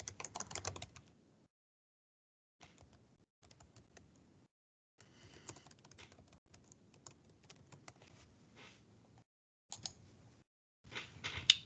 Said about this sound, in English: I'm going to hit login and retype in my testing email address.